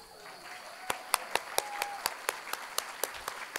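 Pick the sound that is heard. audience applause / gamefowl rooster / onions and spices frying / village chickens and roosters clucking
audience applause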